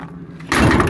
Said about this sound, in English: Unlatches, latches. Door opens